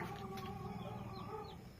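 Chickens in a coop give a few short, quiet clucks and squawks over a steady hum, close by and low in level.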